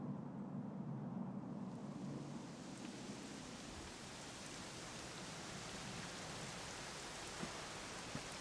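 Steady rain in a video game falls in a dense, even hiss, with occasional faint drops standing out; no voices.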